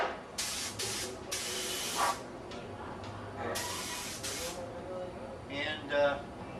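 A spray gun applies a primer coat to a car in a series of short hissing bursts, several in quick succession and a few shorter ones later, close and moderately loud over faint background noise.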